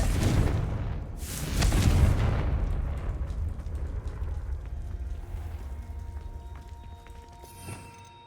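A Confringo spell explosion in Hogwarts Legacy, a loud booming blast with a rumbling burst that swells and then slowly decays into a fading tail.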